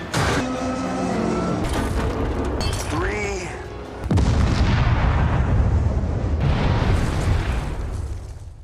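A bomb detonates in a river during a film action scene, a sudden deep roar that swells into sustained rumbling and churning water noise, loud and close, following tense music and sound effects.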